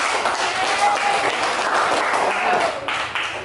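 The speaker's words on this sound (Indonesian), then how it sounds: "Tepuk tangan buat kelompok 1." A room full of people claps together in steady, moderately loud applause for a few seconds, with a murmur of voices mixed in.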